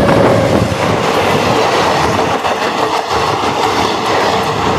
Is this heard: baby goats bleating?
no